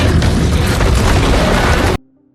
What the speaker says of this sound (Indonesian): Miles dan senjata di tangannya langsung menembaki dinosaurus itu